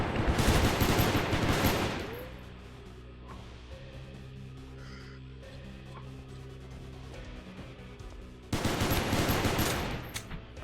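Laser weapons firing in the space game Space Station 14 during a nuclear operative fight: a dense burst of rapid shots, a lull with low background tones, then another loud volley.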